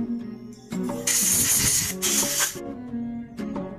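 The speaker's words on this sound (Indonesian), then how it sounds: "Semprot seluruhnya teman-teman. Jika sudah, teman-teman semprot yang ini." Aerosol cleaner sprayed onto a motorcycle carburetor during servicing: two long, loud, close hissing bursts in quick succession, each about a second long, then a short spritz near the end.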